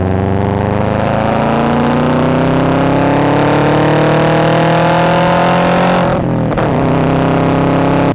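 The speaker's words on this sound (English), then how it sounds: "these boxer engines with the unequal length headers" A Subaru WRX wagon's boxer engine with unequal-length headers revs loudly and steadily, its pitch climbing then dipping briefly before settling again, a throaty rumble up close with no talking.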